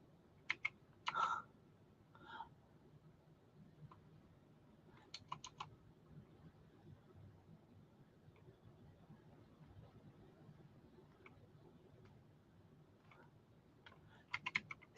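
Keys on a computer keyboard clack in short scattered bursts of typing, quiet and close, with long near-silent gaps in between.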